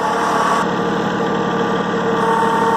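A DR wood chipper's engine runs steadily nearby, a loud continuous mechanical drone with a constant hum and no pauses.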